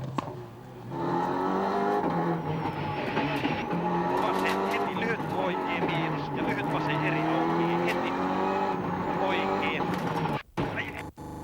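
A Mitsubishi rally car races a WRC Tour de Corse 2001 stage on tarmac, its engine a loud sustained rising whine as it passes, under a commentator's voice.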